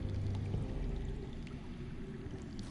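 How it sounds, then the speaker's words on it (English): Water running steadily underground in a Game of Thrones video game, a constant low rushing wash with no breaks, fairly quiet and heard alone. "That's water. I hear water. from underground."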